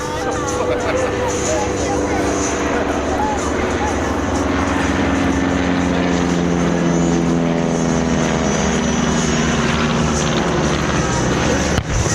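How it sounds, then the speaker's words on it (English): Loud, droning 230 horsepower six-cylinder Siddeley Puma engine of a vintage DH9 biplane at an airshow runs continuously, a throaty, steady rumble with harmonic tones, close and unbroken throughout. "The engine you can hear there powering the DH9 with a 230 horsepower, 6-cylinder Sydney Puma"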